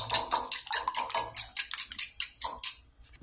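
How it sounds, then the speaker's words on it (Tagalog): A utensil stirs corned beef into scrambled eggs in a pan, a rapid series of close metallic scrapes and clinks in an irregular rhythm that slows and fades at the end. "Ayan, hinahalo na natin yung corned beef sa itlog. I-scramble natin siya."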